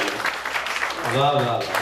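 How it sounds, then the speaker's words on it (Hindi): Audience applause rises at a comic mushaira (humorous Urdu poetry gathering), a broad clatter of clapping that carries on as a voice begins speaking over it. "एक बार जोरदार ताली ऊपर से भी आ जाए"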